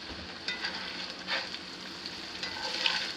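Home fries sizzle and crackle steadily in a cast iron pan, with soft scraping stir strokes audible close up and no talking.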